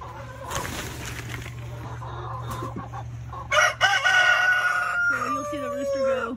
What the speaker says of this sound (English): So you'll see the rooster go right there through that hole.